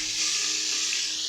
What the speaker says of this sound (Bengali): আর একটা পিঠ ভাজা হচ্ছে